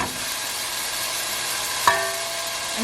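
Canned cheese sizzles softly as it melts in a pan, a steady low frying hiss, with one sharp scrape or clank of the scoop near the end.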